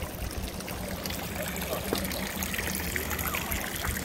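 Water trickles from small holes in the boot of a statue fountain into the basin below, making a soft, continuous dribbling and splashing sound close by.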